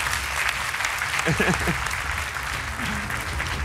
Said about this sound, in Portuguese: grande aplauso para ele